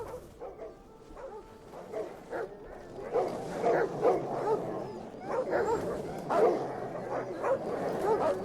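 War dogs barking and yelping during a battle in the strategy game Total War: Attila, a dense, continuous run of overlapping barks and yips amid battle noise, with someone talking at times.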